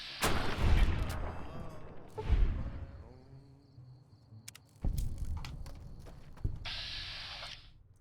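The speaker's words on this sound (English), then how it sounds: "I shoot you." Gunshots in the Fallout video game, several heavy booming shots with long ringing decays spaced a few seconds apart, mixed with clanking mechanical game sounds and a faint voice in the background.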